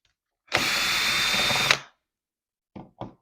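A cordless power drill backs out the screws of a household light switch cover: one steady whir of just over a second, then two short trigger blips, close by with no speech.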